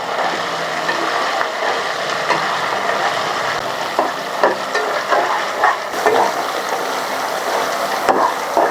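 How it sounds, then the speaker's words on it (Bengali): Tomato, ginger and green chilli fry with spices for chicken aloo kosha, keeping up a loud, continuous sizzle while a spatula scrapes and taps in an uneven rhythm, close up. "একেও খুব সুন্দর ভেজে নেব মশলার সাথে।"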